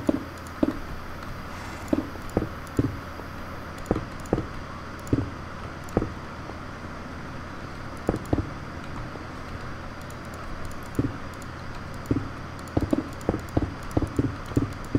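Horse hooves clip-clopping in Minecraft, crisp irregular hoof clops in small clusters over a quiet background, moderately near, with no talk.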